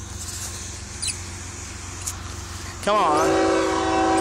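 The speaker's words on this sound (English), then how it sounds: "Union Pacific train coming." Union Pacific 7379 freight train rolling through Effingham, Illinois: a low rumble, then a loud, close, sustained horn blast for the last second or so; a voice speaks briefly.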